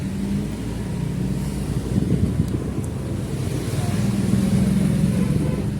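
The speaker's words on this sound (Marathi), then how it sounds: "दक्षने गाडी चालू केली मी मागं बसलो आहे" A motorbike being ridden with passengers aboard gives a steady, low engine rumble, heavily buffeted by wind noise throughout, with no clear speech.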